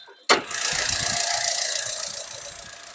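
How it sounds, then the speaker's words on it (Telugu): A 2019 Honda Amaze S with 38k on the odometer starts from silence with a sudden crank and catch, then settles into a steady, close idle that eases slightly toward the end. "బానెట్ కూడా తీసి ఇంజిన్ స్టార్ట్ చేసి చూపిస్తాను"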